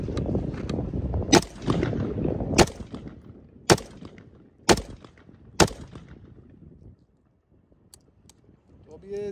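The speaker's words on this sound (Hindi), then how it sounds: "तो इसके ऊपर सिंगल राउंड कर रहे हैं, 15 मैगजीन है, 5 सिंगल निकालते हैं" Saiga .223 rifle fired in single rounds outdoors, five loud sharp reports spaced about a second apart over background chatter and noise, then trailing off to quiet.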